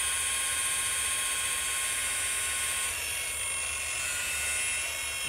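A rotary polisher works on car paint with a steady high-pitched whine and hiss, continuous and fairly close, without talk.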